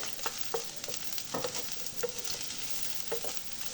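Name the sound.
broccoli sautéing in oil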